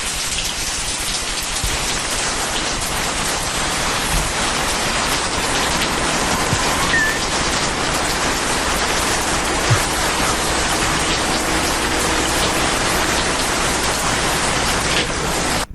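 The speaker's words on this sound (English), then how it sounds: "You do it in the shower? No, it's rain." Steady, dense rainfall hissing continuously, full and close, with no voices or other sounds breaking through.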